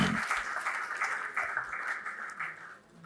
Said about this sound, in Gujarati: આપણે તાળીઓથી આ ક્ષણને વધાવીએ